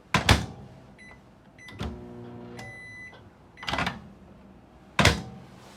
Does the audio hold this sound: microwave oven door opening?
yes